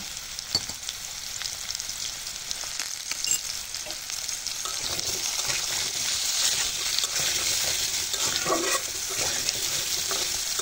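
Potato pieces fry in oil seasoned with salt and turmeric, giving a constant close crackling sizzle that grows slightly busier as they brown, with a few stirring clinks.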